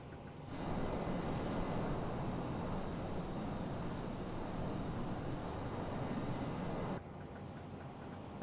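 Learjet 35A jet engines in Microsoft Flight Simulator roar in a steady, loud broadband rush during a fast climb, holding constant before easing slightly near the end.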